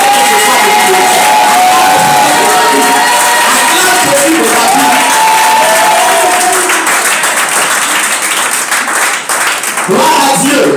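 A church congregation at a French-language worship service bursts into sustained applause and cheering, with clapping, whoops and shouts filling the room steadily for the whole stretch.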